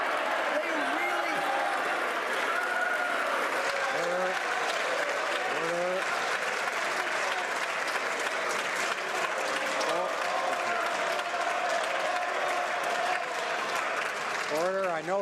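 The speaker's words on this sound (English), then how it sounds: "I know members are eager to applaud the question" Members of parliament applaud in the House of Commons during Question Period, a sustained loud clapping crowd filling the chamber throughout, with voices calling out and speech mixed in beneath the noise.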